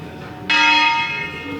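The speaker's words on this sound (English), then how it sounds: "It's a guy on the top ringing the bell." A church bell in a hilltop tower in Montepulciano, Tuscany, rung by a man at the top, gives one clear strike whose bright tone hangs and slowly fades.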